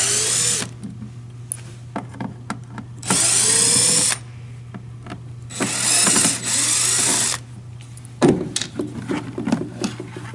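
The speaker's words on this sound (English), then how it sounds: "So I'm going to start off taking off the outside screws." A battery power drill whirs in several separate bursts while backing out the outside screws of a housing, with clicks and handling noise between runs and a steady low hum underneath; close, no talk.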